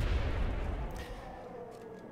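A surgical grenade explodes in a video game: one deep, rumbling boom that starts loud and fades away over about two seconds.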